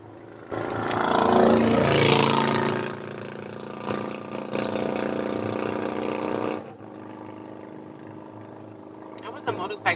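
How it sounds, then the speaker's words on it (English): A loud motorcycle engine roars past nearby, swelling quickly and then holding a steady drone before easing off. "That was a motorcycle. Did y'all hear that?"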